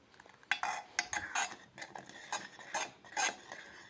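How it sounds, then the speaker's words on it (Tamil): Spoon stirring thick millet (kambu) porridge in a pot, with repeated scraping and clinking strokes in an uneven rhythm, close and moderately loud. "கை விடாமல் கிளறணும்"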